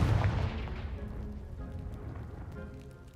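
In Hogwarts Legacy, a Confringo spell sets off an explosion that hits as a loud boom, followed by a rumbling tail of scattered debris that slowly fades.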